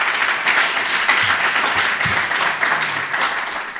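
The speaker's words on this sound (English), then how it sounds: "good round of applause for Mike for being fabulous" Hearty applause from a tech talk audience, a close, loud burst of many clapping hands that runs steadily for several seconds, with a few faint low vocal sounds and murmurs mixed in.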